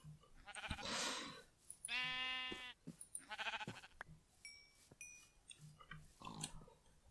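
Sheep bleating in Minecraft, several short bleats in a row, fairly close and clear, with a few faint clicks and game sounds between them.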